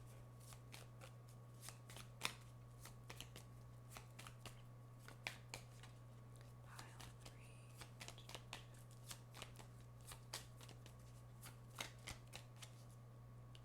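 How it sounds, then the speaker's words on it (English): A deck of cards is shuffled by hand, giving soft repeated riffles and flicks at an uneven rhythm against a low steady hum, close and quiet with no talking. "I'm gonna shuffle these cards"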